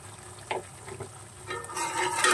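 Spoon stirring roasted cumin powder into a paneer and vegetable curry in a pan, with soft scraping strokes and a faint sizzle that grows louder toward the end.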